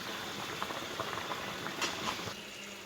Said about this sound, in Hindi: अब इसको हम एक स्ट्रेनर में निकाल के छान लेंगे।